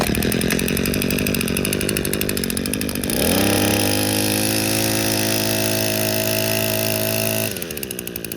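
A repaired gas string trimmer engine, fitted with a new filter and a cleaned muffler, runs loud and close throughout, shifting from a rough idle to a steady high rev and then dropping back near the end.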